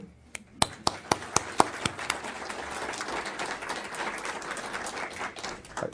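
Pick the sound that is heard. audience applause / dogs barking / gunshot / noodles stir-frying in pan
audience applause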